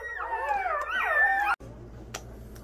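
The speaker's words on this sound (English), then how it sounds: "10 puppies. 10 little beautiful Australian shepherds." A litter of ten Australian shepherd puppies, including black merles, gives off high, wavering whimpers and howl-like cries that run steadily for about a second and a half. After a short break only faint soft noise and a brief small yelp follow.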